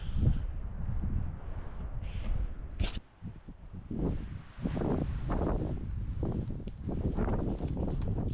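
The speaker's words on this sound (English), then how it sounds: "I'm really sorry if the wind is causing problems with the microphone" Wind buffets the microphone outdoors in a desert canyon, a low roaring rumble in uneven gusts that drops briefly before surging back, loud and close throughout.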